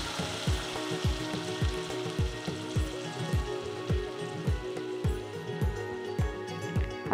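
Masala paste for kadhi dropped into a hot pan and frying, a steady broadband sizzle with regular soft stirring knocks underneath, close and moderately loud, no talking.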